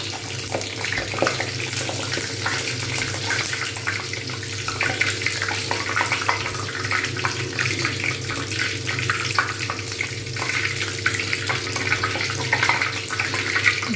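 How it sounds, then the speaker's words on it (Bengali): Beetroot luchi fry in hot white oil in a kadai, giving a steady, dense sizzle and bubbling hiss that runs throughout at close range, with no talk. "তেল ভালো মতো গরম হবে তারপর আমি এর মধ্যে লুচি ছেড়ে দেবো ছেড়ে দিয়েছি"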